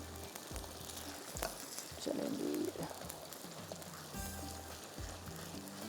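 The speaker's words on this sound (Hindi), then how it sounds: "अच्छी तरह से इसको आपने चम्मच चला।" Karahi chicken masala sizzles and fries in ghee while a spoon stirs it, with soft scraping strokes and a brief louder bubbling swell partway through, close and steady.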